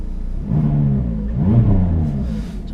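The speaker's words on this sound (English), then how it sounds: "We've got the engine start button down here, so we'll actually just start it up." A McLaren 570S sports car engine fires up and revs, a close, deep rumbling idle rising in two throaty swells of revving before settling back.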